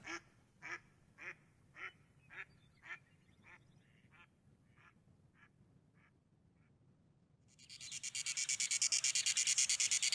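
Ducks quacking outdoors among trees and reeds, a run of about a dozen evenly spaced quacks that fade from loud to faint, followed by a loud, steady buzzing drone of cicadas.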